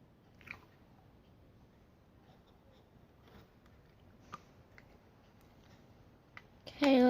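Scissors cut open a squishy toy in a few sparse, faint snips and clicks against a quiet background. A louder burst of handling noise comes at the very end.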